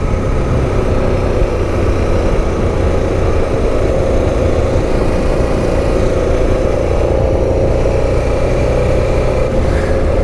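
Steady road noise from cars moving along a street, continuous and moderately loud throughout, heard from the saddle of a Honda Freewind 650 motorcycle with its own engine rumble underneath.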